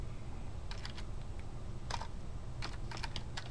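Fingers typing a spreadsheet formula on a computer keyboard, soft clicking keystrokes in quick irregular clusters over a low room hum, with no talk.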